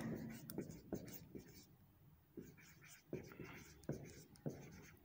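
Pen or chalk writing during a permutations and combinations lecture, a series of short scratchy strokes in irregular bursts, fairly close, with faint whispery speech underneath.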